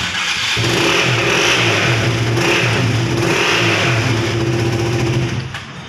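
A second-hand motorcycle revs steadily and loudly for several seconds, held close, the engine note rising and falling in broad surges before dropping away at the end, with no talk over it.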